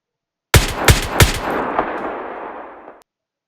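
Three rapid gunshots from a video game gun template ring out loud and alone, each followed by a long decaying reverberant tail.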